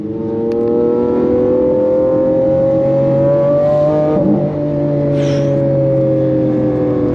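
A Lamborghini Aventador LP 700-4 exhaust drones loudly and close in a sustained rev, its pitch climbing slowly and then easing off with a brief dip in the middle.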